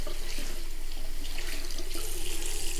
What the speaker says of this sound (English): And then give everything a good rinse.